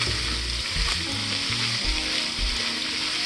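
Sliced onions frying in red chorizo fat, a dense, loud sizzle with low stirring thumps underneath, close up and without talk.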